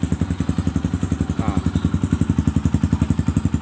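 A Kawasaki KLX BF motorcycle engine idles close by, its single-cylinder beat producing a fast, even train of loud thumping pulses that continues steadily throughout.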